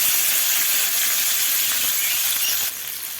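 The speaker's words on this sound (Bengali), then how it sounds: "দিয়ে দিচ্ছি কুচনো পেঁয়াজ," Chopped onion sizzling in hot oil over fried whole spices, a loud, steady, close hiss that drops slightly in level near the end.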